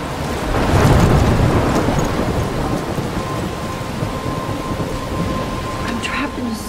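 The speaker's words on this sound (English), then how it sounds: "I'm trapped in a storm?" A thunderstorm with rain in the video game Life is Strange: loud, dense rain pours without a break, with a deep thunder rumble swelling near the start.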